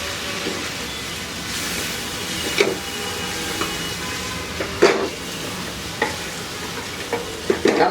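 Fried chicken pieces being stirred into oyster sauce in a hot pan: a continuous sizzle with repeated sharp scrapes and clacks of a spatula against the pan, louder toward the end.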